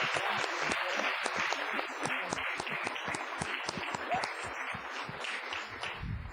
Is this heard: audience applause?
yes